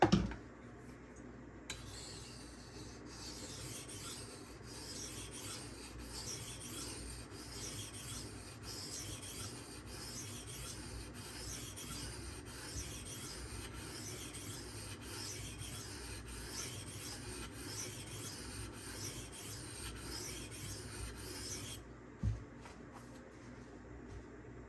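Close, steady rasping strokes of a Benchmade Anthem knife being sharpened on a 1000 grit stone, a quiet rhythmic scraping that continues for over twenty seconds with no talk.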